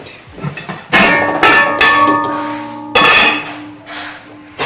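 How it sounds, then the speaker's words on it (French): A metal cooking pot being handled and set down on the stove, giving several loud metallic clanks, each followed by a ringing tone that slowly fades. "cette marmite a été placée au feu"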